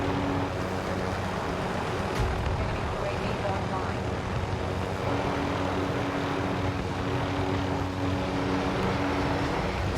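A helicopter flies in the Call of Duty Modern Warfare video game. Its rotor and engine drone runs as a steady, loud, continuous hum under a player talking.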